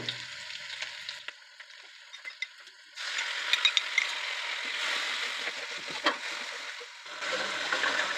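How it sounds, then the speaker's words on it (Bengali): Mixed sauces for chicken pasta chow mein sizzle steadily in a pan, a soft hiss that swells louder about midway, with occasional light stirring clicks, close by. "সেই সসগুলো এখানে ঢেলে দিব"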